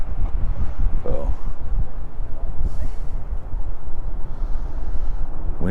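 Gusty wind buffets the microphone with a low, uneven rumble, steady throughout at an outdoor overlook in Minnesota, while distant sounds flicker faintly underneath.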